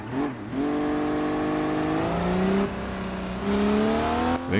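A DeLorean engine in the driving game BeamNG.drive drones loudly and steadily up close, its pitch climbing in stages as it revs and shifts.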